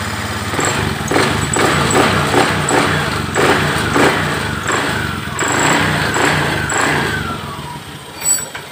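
A Honda Beat FI scooter engine runs steadily up close after an ignition fault repair, with repeated rising revs and a rough mid-pitched drone before it settles and fades near the end.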